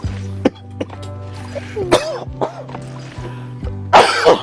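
A person coughing during a Disney Dreamlight Valley game session, with several sharp, loud coughs and throat clearings at irregular intervals over a steady low game hum.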